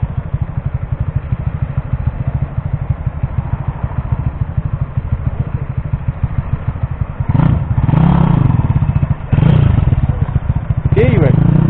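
A Kawasaki KSR 110 minibike engine with a hydraulic clutch idles with a steady rapid chug, then revs loudly in a few short bursts toward the end.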